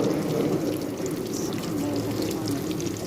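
Water poured from a vessel during home cooking of tawa-fried fish, a steady, close splashing trickle that runs continuously with low background noise.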